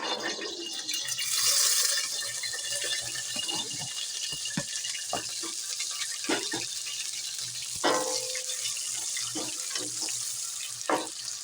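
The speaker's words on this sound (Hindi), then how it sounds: "ऑयल हमारा गर्म हो चुका है, अब हम प्याज डाल लेंगे" Onions go into hot oil for a cluster bean curry and fry with a steady, close bubbling and crackling sizzle, broken by occasional clinks and scrapes of stirring.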